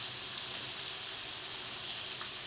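Cauliflower stems and potatoes boiling in a pot, a steady, close bubbling hiss that continues evenly without pause.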